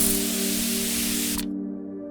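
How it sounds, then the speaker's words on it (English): Pesticide sprays from a sprayer around the outside of a house, one loud continuous hissing burst that cuts off sharply after about a second and a half. "That night, Jeffrey took out the pesticides and sprayed it all around the house."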